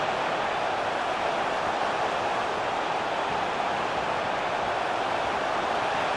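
Stadium crowd in a FIFA 23 Serie B match between Venezia and Frosinone, a constant broad roar of massed fans, steady and fairly distant, with no voices standing out.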